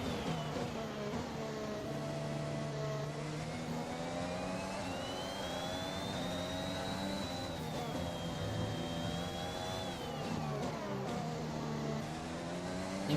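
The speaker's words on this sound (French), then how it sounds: "Et Max Verstappen qui passe seulement la ligne d'arrivée" Racing car engine in the F1 2021 video game crossing the finish line, a steady sustained engine drone with a slowly rising and falling pitch sweep, loud and continuous throughout.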